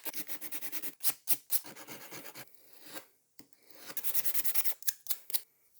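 Sandpaper rasps along the grain of a wooden knife handle in close, quick back-and-forth strokes, with bursts of rhythmic rubbing broken by short pauses.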